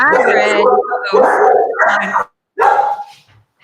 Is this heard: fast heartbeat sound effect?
no